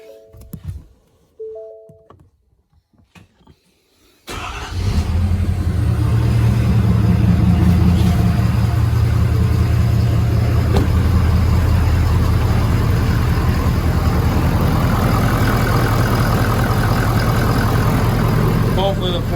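A 2017 Ford Powerstroke diesel engine fires up after a fuel filter change and settles into a loud, steady idle, preceded by a few seconds of quiet clicking and faint pump sounds.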